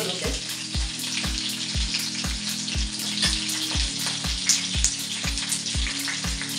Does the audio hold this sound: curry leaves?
yes